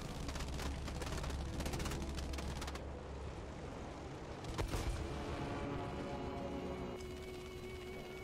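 Rapid bursts of fighter plane machine-gun fire during an aerial dogfight in the video game Battlefield 5, loud and close, rattling over a steady roar of aircraft engine with a sharp crack midway.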